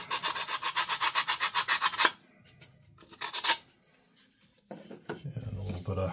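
Sandpaper rubs a plastic Sig Sauer P320 grip module in quick rhythmic strokes, then pauses and returns in short scraping bursts, close and clear.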